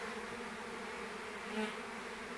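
Honey bees and drones from a swarm buzz in a dense, continuous hum close by, a steady droning mass with a brief louder pass near the end and no talk.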